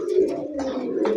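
Velvet pigeons coo in a low, steady, rolling murmur that carries on through the whole moment, close by with no talk over it.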